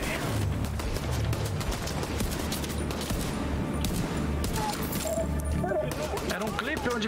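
Heavy gunfire rattles in Tom Clancy's The Division 2, rapid overlapping shots and bursts filling the scene continuously, with someone talking over the shooting.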